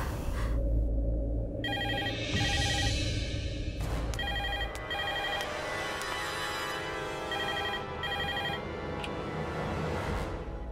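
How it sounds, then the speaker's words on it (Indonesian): A telephone rings in repeated double bursts of electronic trills, clear and fairly close, with short pauses between rings and no voices. "kan teleponnya berdering, jadi harus aku terima"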